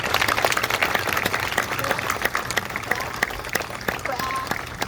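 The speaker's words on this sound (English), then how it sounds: "Please give a round of applause to Mr." A crowd gives a round of applause at a public ceremony, honoring a man and his team; dense, fairly steady clapping with a few sharper near claps and some faint voices underneath.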